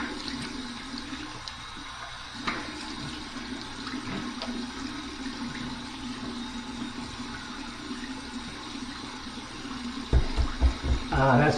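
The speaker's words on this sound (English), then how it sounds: "Here's my cold water rinse to close my pores." Cold tap water runs steadily from a faucet for a face rinse after a shave with a safety razor, a continuous moderate splash with a louder burst of splashing near the end.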